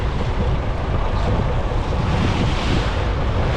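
Strong wind blusters steadily against the microphone aboard a prawn fishing boat on the open deep sea, with constant rushing noise and surf beneath, loud and unbroken.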